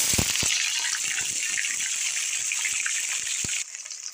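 Chicken goes into hot oil in a karahi over a low flame for Balochi karahi, giving a bright, continuous sizzling hiss with a few sharp clatters near the start and end.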